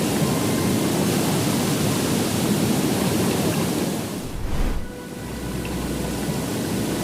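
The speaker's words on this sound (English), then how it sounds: "Savica Waterfall." Savica Waterfall in Triglav National Park near Lake Bohinj, Slovenia, with white water rushing through a steep rock gorge: a loud, steady broadband roar that dips briefly near the end before resuming.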